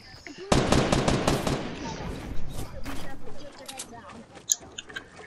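Rapid automatic gunfire in a Fortnite battle, a loud burst of quick shots that tapers into scattered, more distant firing, with people talking over it.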